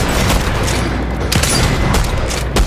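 Rapid gunfire from a weapon in the video game Fortnite, a loud, dense fusillade of shots with booming hits running continuously through the short stretch.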